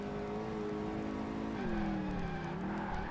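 Muscle car racing in Project Gotham Racing 2, a Chevrolet among the American cars on track, its engine droning steadily at high revs with pitch dipping and rising through a corner, moderately quiet and without talk.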